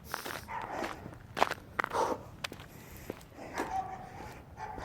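Footsteps crunch in snow on a walk to the park, an uneven run of close, soft impacts with a few sharper crunches and quieter gaps between them.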